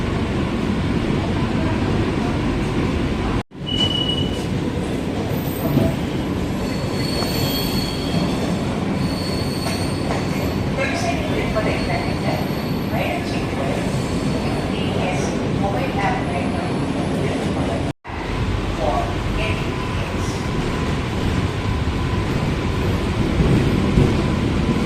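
A Chennai AC local electric train running between Fort and Park stations, heard from inside as a loud continuous rumble with squealing wheels and rattling carriage, and voices in the background.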